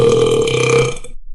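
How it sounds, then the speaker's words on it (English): A single loud, drawn-out burp in a classroom, close and dry, lasting about a second before cutting to silence. "I burped."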